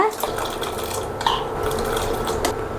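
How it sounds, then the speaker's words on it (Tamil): Soaked sago and its soaking water poured into a pot of boiling water, heard as quiet sloshing and splashing with a few small clinks against the pan at close range. "ஊற வச்சுருக்கிற ஜவ்வரிசி தண்ணியோடையே சேர்த்துக்கலாங்க"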